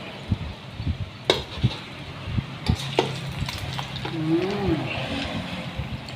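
A Thai omelette fries in a hot pan with a steady sizzle, broken by sharp scrapes and taps of a utensil stirring and turning the egg.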